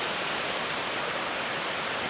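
Moris Falls pours in an Appalachian mountain woodland garden in North Carolina, a steady, broad roar of rushing water heard close up from the top, with no breaks and no voices.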